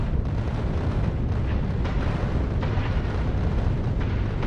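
Dense, continuous barrage of gunfire and explosions from a From the Depths battle, a steady roaring wash of overlapping blasts with no pauses, loud and alone.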